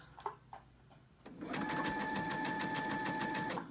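A domestic sewing machine with cream thread stitches batting scraps together, running as a steady, fast, even mechanical whir for about two seconds after a few soft handling bumps.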